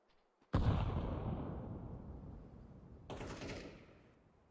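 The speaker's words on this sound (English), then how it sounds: "Throwing grenade." A grenade in CS2 goes off with a heavy sharp blast after a faint tick, and a long rumbling decay follows. A second, lighter burst comes a few seconds later and then fades out.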